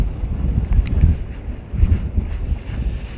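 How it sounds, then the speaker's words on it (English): Strong wind buffets the microphone on a shoreline during trout fishing, a steady low rumbling roar with gusty swells and no voices. "I can't handle much more wind"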